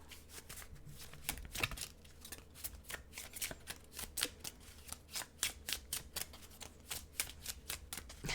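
Tarot cards being shuffled by hand, a dense run of crisp riffling clicks and flutters in quick uneven bursts, close and steady throughout with no talking.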